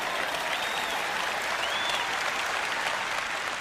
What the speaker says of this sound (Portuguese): Vamos, levante-se e dê um aplauso ao nosso Deus.